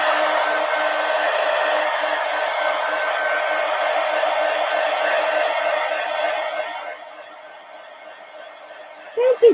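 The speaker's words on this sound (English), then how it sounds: "Let me hit this with the heat gun." A heat gun blows steadily and fairly loud on a stencil sponge for about seven seconds, then shuts off into quiet, with a couple of brief handling knocks at the end.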